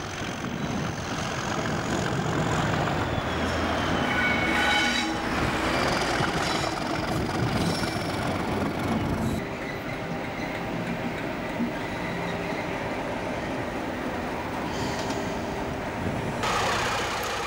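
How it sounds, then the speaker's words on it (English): A Class 37 diesel locomotive departs hauling intercity stock, its engine droning and rumbling while rail cars clatter past, with high metallic whines and a brief dip midway, continuous and fairly close. "Another Class 37 departs with intercity stock."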